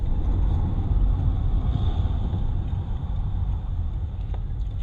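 Road traffic at a junction in Thimphu, Bhutan gives a continuous low engine rumble of passing cars, fairly steady and moderately loud, with no voices.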